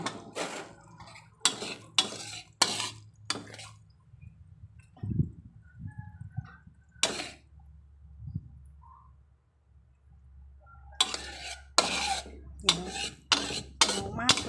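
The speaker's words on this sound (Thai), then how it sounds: "จะตักใส่ชาม" Sticky, thick sweet fish sauce is scooped from a pot into a bowl. Several bursts of metal spoon scraping and clinking come close by, with a few soft taps and quiet pauses between them.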